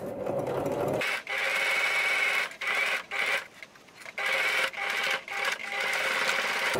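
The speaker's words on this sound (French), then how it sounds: "ce sera plus facile pour la machine d'entraîner le tissu si on commence de ce côté là" A sewing machine stitches fabric in several bursts of rapid, buzzing needle action, separated by short pauses, close and steady.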